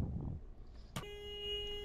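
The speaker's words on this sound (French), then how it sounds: "Klaxonner." A car horn in the Roblox video game sounds once as one long, steady electronic honk. It starts with a sharp click and holds to the end, clear and close.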